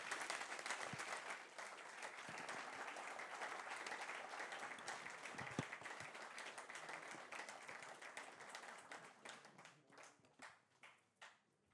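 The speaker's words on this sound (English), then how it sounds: "please give a hand of applause to our four distinguished speakers" Audience at a panel on the war in Ukraine applauds four speakers: sustained, fairly quiet dense clapping that thins into scattered individual claps and fades out near the end.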